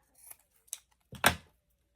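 Scissors cutting glued paper strips for a junk journal, three quick separate snips, close and crisp, the last the loudest, with silence between and after.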